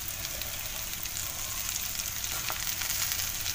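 Reddish spice masala sautéing in a pan for an onion-greens dish, a steady close sizzle and crackle with occasional stirring scrapes and no talking.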